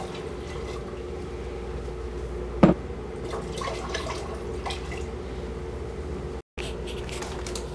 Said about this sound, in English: I'm going to go ahead and add my vinegar, and I'll go ahead and add my next part of the vinegar too.